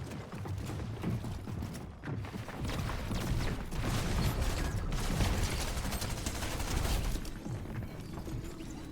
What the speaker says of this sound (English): Stinger SMG is so broken.